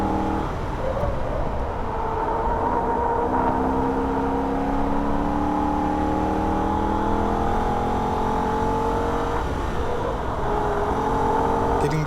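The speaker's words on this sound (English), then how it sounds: "turn the car in and go back to wide open throttle for a brief moment" A Holden VF Ute's engine holds wide open throttle on a high section of the Nürburgring, a loud, steady in-car drone whose pitch climbs through the revs, with a continuous roar of road and wind noise beneath.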